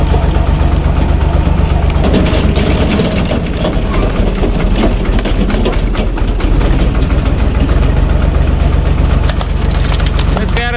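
A U445 DT 4x4 tractor engine runs loud and steady up close while wood is being split, with a continuous low rumble and scattered sharp cracking and splintering on top.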